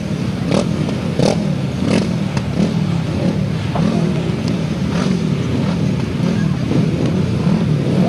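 Grasstrack sidecar motorcycles at a 1991 Bodiam meeting roar off the start line together, a dense, loud engine din with rising revs and clattering bursts, under a race commentator's voice.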